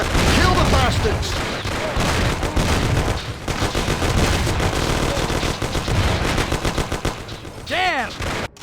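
Rapid bursts of gunfire crackle through a close, loud shootout in the Mafia video game, with shouted voices in the middle and a whistling, swooping sound near the end.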